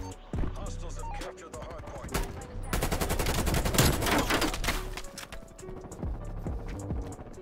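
Rapid bursts of Krig 6 assault rifle fire in a Call of Duty shooter game, loud and sustained through the middle with scattered shots and footstep-like clatter before and after, with a voice occasionally speaking over it.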